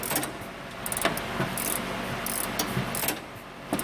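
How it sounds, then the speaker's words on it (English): A ratchet tightens the top nuts on a car's suspension shocks, quick bursts of rapid metallic clicking repeating in short strokes, close and crisp over a quiet background. "we're going to tighten those top nuts on those shocks"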